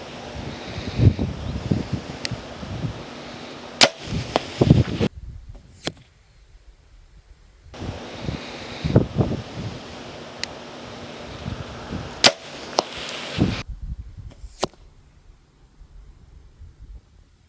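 Hybrid mechanical broadhead arrows from Evolution Outdoors, Hyde and Whitetail Fury, are shot from a bow at a target 40 yards away, with repeated sharp snaps and thuds amid wind noise and rustling outdoors.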